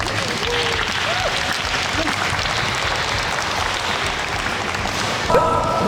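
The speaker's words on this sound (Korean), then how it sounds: "오늘 함께 해주신 선수들과 코치님께 박수 한번" Audience applause for the players and coaches at a Suwon FC women's football event, a steady dense crowd of clapping throughout, with some faint voices and a brief tonal sound near the end.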